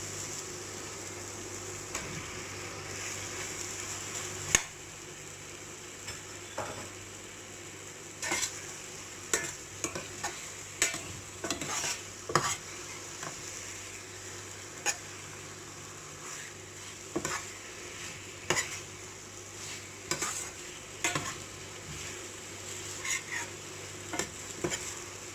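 Chicken pieces tossed into a hot pan for a home-style chicken potato gravy sizzle steadily, with repeated scraping stirs and utensil knocks against the pan over a constant frying hiss; no voices.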